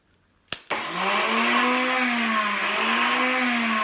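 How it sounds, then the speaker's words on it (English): A sharp click, then a failing motorcycle starter motor spins up into a steady, strained mechanical whir with a droning hum, continuing loud and unbroken without the engine catching. "I have a feeling that the starter motor is on its way out"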